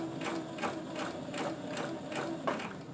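A domestic sewing machine hems chiffon fabric, running in a steady, close whirring with a regular rhythmic needle thump about twice a second, fairly quiet and without talk.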